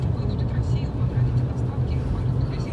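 A car rolls slowly along a road after snowfall, its steady low engine and tire rumble filling the cabin continuously with no distinct passes or changes.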